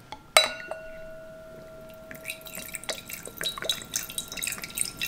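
Wine pours from a bottle fitted with an air-pressure opener: a sharp clink, then a close, quiet trickling and splashing liquid stream into a glass, no talk.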